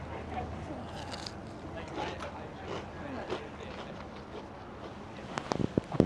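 Crunchy bites into flaky fried fish shared outdoors on the Homer Spit in Alaska, with soft chewing and crisp crackles close by, mostly under people talking.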